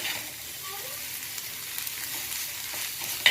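Wild chil leaf greens are stir-fried on a hot griddle, giving a soft, steady sizzle nearby with faint scraping and a brief clink at the end, and no talk.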